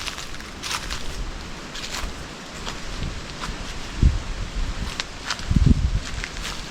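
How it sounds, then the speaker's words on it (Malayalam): Broad, steady rushing noise of strong wind through forest trees near Nilambur in the evening, with rustling and a few low gusty thumps, heard without any talking. "നന്നായിട്ട് കാറ്റടിക്കുന്നുണ്ട് ഇവിടെ"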